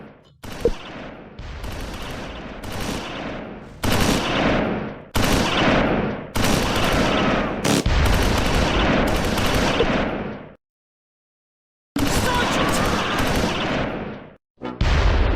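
Gunfire in the WWII strategy game Close Combat 4, Battle of the Bulge at Dasburg: repeated loud bursts of rifle and machine-gun fire in quick volleys, broken by one brief silence, with an anti-tank gun in the fight.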